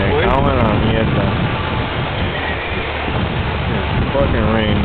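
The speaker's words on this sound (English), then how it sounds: "This is the third time we got rain on today, and we still got plenty more." Rain and wind in a storm batter the microphone with loud, constant roaring rush and gusting noise, while voices talk over it intermittently.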